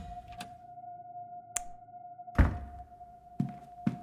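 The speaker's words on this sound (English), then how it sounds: "Every time I hear that bang, I know it's me closing the door behind me" A door slams shut in the video game The Seance of Blake Manor: one loud, heavy thud midway, with softer knocks around it and a steady hum behind.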